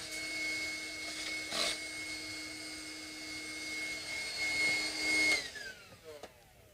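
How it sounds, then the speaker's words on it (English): A vacuum cleaner runs steadily with a whining hum in a guitar repair setting, then shuts down and spins down near the end, followed by a few small handling knocks. "I bought this vacuum cleaner fairly recently."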